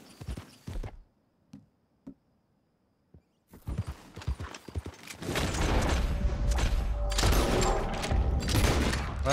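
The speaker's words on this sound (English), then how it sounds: "Well, I didn't mean to shoot it three times." Gunfire rings out while hunting in Red Dead Redemption 2: a few sharp, separate shots and hoof clops against quiet, then a dense, loud stretch of rapid bangs and thumps.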